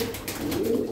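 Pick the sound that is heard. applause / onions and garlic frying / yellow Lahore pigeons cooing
yellow Lahore pigeons cooing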